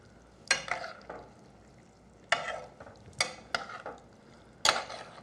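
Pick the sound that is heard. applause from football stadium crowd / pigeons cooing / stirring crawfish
stirring crawfish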